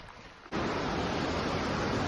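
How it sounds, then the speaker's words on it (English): Roaring water pours down a large slate waterfall on the Appalachian Trail, a dense, steady rush that cuts in abruptly and holds loud and constant, heard from close by at the top of the falls. "Standing at the top of a large slate waterfall."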